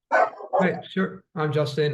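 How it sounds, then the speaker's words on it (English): Several dogs barking and yipping in short bursts during a video call, partly under a voice as he introduces himself. "sorry about my dogs going crazy now"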